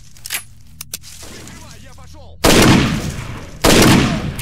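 Gunfire in the PC shooter STALKER: Shadow of Chernobyl, with several light taps early on, then two loud, sustained broadband blasts of shooting close up, each ringing out before the next burst.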